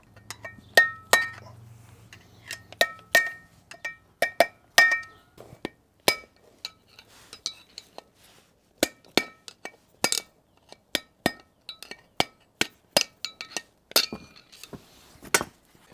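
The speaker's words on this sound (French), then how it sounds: "On va utiliser donc un outil pour faire sortir les cages, remplacé par les nouvelles cages." Sharp metallic clinks and hammer-like taps ring out in an irregular series as a tool drives roller bearing cages out of a Nissan Patrol Y60/Y61 wheel hub, close and loud with no speech.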